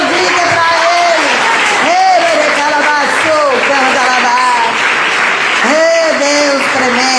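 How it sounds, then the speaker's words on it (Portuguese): A church congregation applauding during a worship service on foot washing, with clapping running continuously under loud, prolonged voices that sound like singing or shouted praise. "Pode aplaudir que é para Ele."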